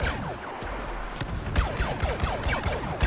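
Rapid blaster fire rattles through a Star Wars Battlefront multiplayer battle, a quick run of sharp shots with descending zaps, moderately loud and close.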